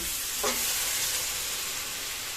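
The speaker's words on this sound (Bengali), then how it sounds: "এবার দিয়ে দেবো জল" Water is poured onto a spice mixture frying in oil in a pan while cooking prawn malai curry with raw pumpkin, giving a brief burst followed by a steady loud hiss and sizzle.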